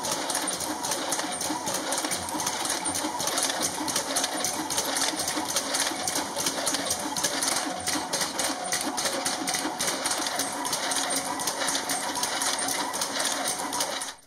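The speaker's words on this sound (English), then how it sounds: "now place my stack of bibs into the feeder, and we're ready to start chipping. Once ready, I press start, and away it goes." A race bib chipping machine feeds and chips a stack of bibs, producing a steady rapid mechanical clatter with fast repetitive ticking and a constant hum running unbroken for about fourteen seconds before stopping abruptly.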